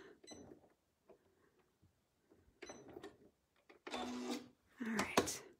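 A home sewing machine running low on bobbin thread during free-motion quilting, starting in two short bursts of whirring stitching separated by quiet pauses, with a few faint knocks and handling sounds in between.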